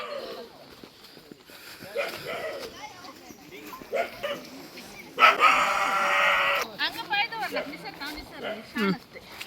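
A dog barks a few times amid people talking nearby, with a rooster crowing briefly in the background.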